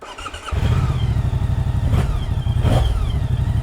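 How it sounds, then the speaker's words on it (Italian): Moto Guzzi V100 Mandello motorcycle engine idling low, then rumbling louder from about half a second in, with a couple of revving surges and mechanical clatter throughout. "Avete mai sentito una Guzzi suonare così?"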